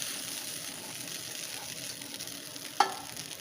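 Cooked, drained white rice tipped into a frying pan and stirred, giving a steady soft sizzle and scraping texture with one brief louder knock near the end, no voices.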